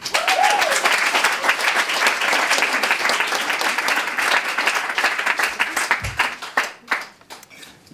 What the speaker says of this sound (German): Ein Applaus noch für Christian Kabun